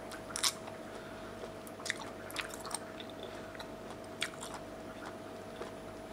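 Sea snails pickled in soybean paste are chewed close to the mic, with soft wet squishes and a few crisp crunchy bites over a faint steady hum, and no talking.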